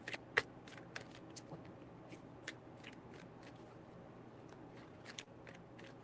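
Tarot cards are shuffled by hand at close range, a soft run of quick papery riffles and snaps with a few sharper clicks, quiet and without talk.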